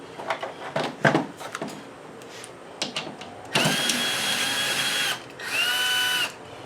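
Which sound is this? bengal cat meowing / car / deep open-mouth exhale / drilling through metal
drilling through metal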